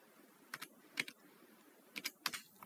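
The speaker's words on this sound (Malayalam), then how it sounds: "താഴെ കാണുന്ന ക്യാപ്ച ടൈപ്പ് ചെയ്യണം" Keys tapped on a computer keyboard while a captcha is entered on a form, heard as two short clusters of quick, close clicks separated by quiet pauses.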